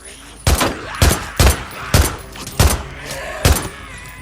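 Gunfire from Days Gone, a handful of loud single shots spaced irregularly about half a second apart, each with a sharp crack and a short booming tail.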